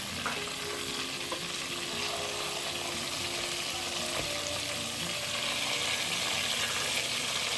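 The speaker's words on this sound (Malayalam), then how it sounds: "ഇപ്പോൾ നമ്മൾ ചിക്കന് വൺ സൈഡ് ഓൾമോസ്റ്റ് ഫ്രൈ ആയി കഴിഞ്ഞിട്ടുണ്ട്, കുക്കായി." Chicken pieces frying in a pan for Thalassery dum biryani, a steady close sizzle with soft stirring and scraping that holds evenly throughout, no talk.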